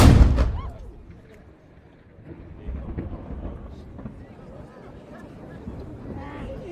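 A ceremonial cannon of the Saluting Battery in Valletta fires a noon salute: one loud, booming blast at the start that decays into a long rumbling echo over open-air ambience.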